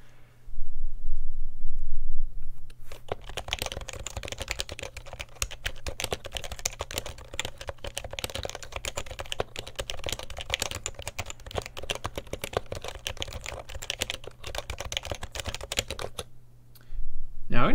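Rapid typing on a compact 60% HHKB-style Topre mechanical keyboard set on a Cherry desk mat, a dense, continuous stream of soft, close key clacks for about thirteen seconds over a low hum.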